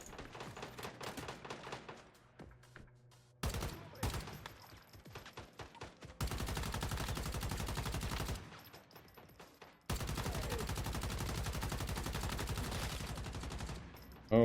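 Gunfire from a gun in the video game Once Human, dense rapid bursts of automatic fire loud and continuous, broken by short gaps and a few single shots.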